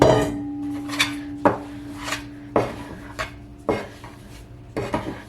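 A mixing bowl is moved around a kitchen counter while sourdough buns are prepared, producing half a dozen hard clanks and knocks with ringing tails, close and otherwise quiet.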